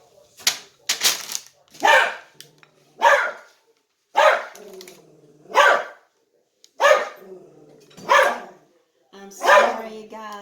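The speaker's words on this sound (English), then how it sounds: "I'm sorry, guys, about the barking." A dog barks repeatedly in a home kitchen during cooking, loud close sharp barks in an irregular series of about nine over ten seconds, with no speech between them.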